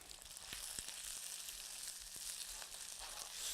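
An egg cracked into a cup in the middle of rice sizzles steadily in a frying pan while cooking Thai coconut shrimp, a continuous close crackling hiss with small pops and no talking.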